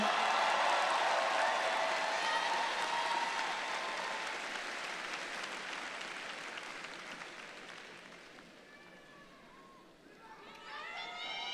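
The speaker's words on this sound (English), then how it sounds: "let's give them another round of applause" A large audience at a university's 155th annual commencement ceremony applauds graduating seniors, loud, dense clapping that slowly fades away before a speaking voice comes in near the end.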